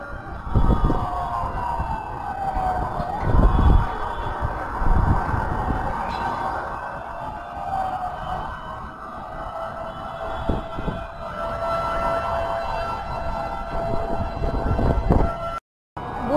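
Wailing fire truck sirens rise and fall continuously over steady traffic rumble near a fire, fairly close and loud throughout, with no talking.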